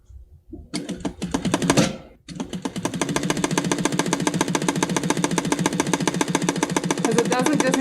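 A Titan 650BL sewing machine runs steadily at a slow setting of about 500 stitches per minute while winding a bobbin, a dense rapid mechanical chatter that starts, stops briefly, then continues evenly and close.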